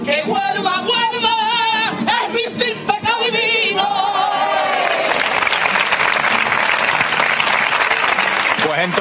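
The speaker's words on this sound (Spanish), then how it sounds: "cuando afloran los aplausos en la charca" Singing of a sevillana by the Huelva brotherhood at la Charca gives way to loud, sustained clapping from a crowd, the applause swelling and filling the second half.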